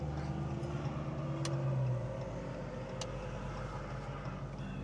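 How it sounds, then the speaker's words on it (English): Seen from inside a Dodge Hellcat on the road, a car engine nearby gives a rising revving drone that fades after two seconds, leaving a steady low cabin road rumble. "People start revving their engines."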